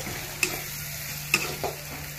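Spices sauté in a pan, making a steady close sizzle, with two sharp clicks of a utensil striking the pan and a softer knock near the end.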